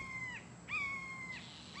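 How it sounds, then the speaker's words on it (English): Several birds near their nest give loud, harsh squawking calls, with a few drawn-out cries repeating in bursts against a faint outdoor background. "They squawking, trying to get it away from their nest."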